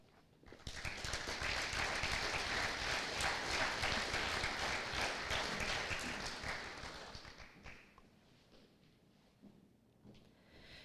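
Audience at an FFA banquet applauding academic achievement award recipients: a sustained round of clapping swells in, holds steady for several seconds, then fades to scattered claps and room quiet.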